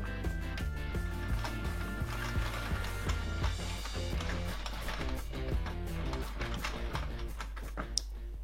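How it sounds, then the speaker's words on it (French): A French knitting machine's crank turns continuously while a pompom beanie is knitted, giving a close, rhythmic mechanical clatter of ratcheting and ticking parts at a steady pace. No one speaks. "tourner la manivelle sans s'arrêter tout le long"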